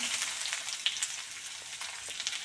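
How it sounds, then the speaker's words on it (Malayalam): Chopped onions hitting hot oil with curry leaves, a dense bright sizzle with small popping crackles, close and steady over a couple of seconds, no voices. "കറിവേപ്പില ഒന്ന് മൂത്ത് വരുന്ന സമയത്ത് നമുക്ക് ഈ ഉള്ളി അരിഞ്ഞ് വെച്ചതും കൂടി അതിലിട്ട് കൊടുക്കാം"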